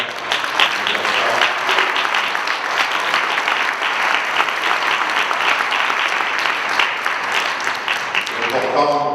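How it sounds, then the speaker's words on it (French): A crowd at a left-wing political meeting on pensions applauds Pierre with sustained, dense, loud clapping that continues steadily, a voice briefly rising near the end. "Je voudrais, s'il vous plaît, qu'on applaudisse Pierre, parce que vraiment c'est important."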